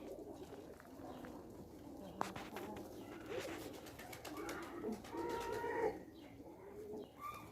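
Pigeons coo steadily nearby, soft repeated throaty calls layered together over a busy background of rustling and movement in a loft.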